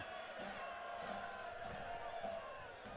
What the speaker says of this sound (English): Feeling some energy from the crowd there as the Red Army puts up the red smoke in City Stadium.